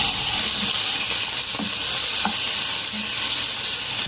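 Chicken pieces frying in a pan with a spoonful of healthy fat, a steady close sizzle with a few soft scrapes of stirring, no voices.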